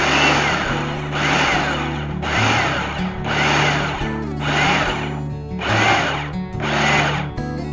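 A blender pulses a peanut butter and jelly mixture with milk: six whirring bursts of about a second each, separated by short pauses, loud and close with no talking.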